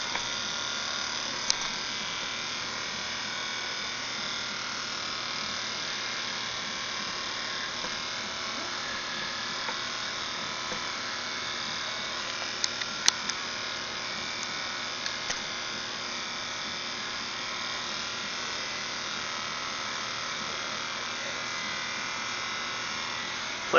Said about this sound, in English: So we're going to shave her arm.